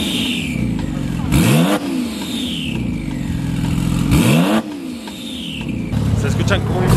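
A car engine, a new Audi R8 among turbocharged cars, revs hard in two loud sweeping bursts that rise and fall, with a whooshing turbo character and people talking over it.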